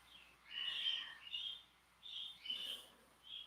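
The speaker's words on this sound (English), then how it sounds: "my birds are like causing a ruckus in the background" Pet birds calling indoors in the background, a series of high, shrill squawks and chirps in short bursts separated by brief quiet gaps, fairly faint and heard alone.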